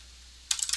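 Quick keystrokes on a computer keyboard follow a short quiet pause, a brief burst of several close, crisp clicks typed in rapid succession.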